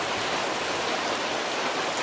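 Persistent evening rain falls outdoors, giving a constant broadband wash of drops hitting surfaces nearby, unbroken and without speech.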